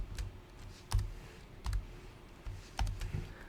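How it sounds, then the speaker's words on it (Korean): Code being typed on a computer keyboard: a short run of separate, moderately loud key clicks with uneven gaps between them, heard alone with no talking. "이 함수의 내용으로 여기에 있는 코드를 그대로 옮겨서 타이핑해"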